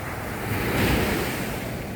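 Sea waves at Cha-am beach in Thailand wash steadily onto the shore, a broad continuous surf roar swelling slightly midway, with wind buffeting the microphone throughout and no voices.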